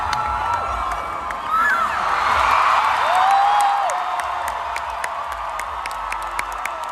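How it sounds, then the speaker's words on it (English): A massive festival crowd cheers and shouts for a Girl in Red set on the public stage at Reading Festival 2021, a broad sustained roar that swells in the middle, heard from within the crowd. "massive crowd."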